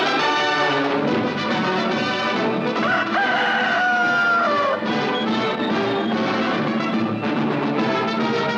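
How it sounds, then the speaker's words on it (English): A rooster crows loudly, the British Pathé cockerel trademark, its call ringing out over a busy musical backdrop that fills the clip without pause. "Think British Pathé and you think the crowing cockerel."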